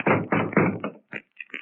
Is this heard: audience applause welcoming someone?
no